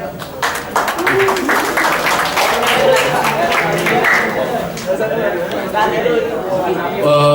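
An audience at an IT conference gives a round of applause, a mass of clapping mixed with crowd chatter, fairly loud and sustained, with voices talking throughout.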